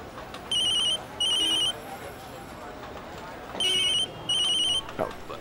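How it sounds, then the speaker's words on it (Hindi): A telephone rings in a domestic setting, two bursts of bright trilling rings, a pause, then two more, fairly loud over a low background murmur. "कब से फोन बज रहा है?"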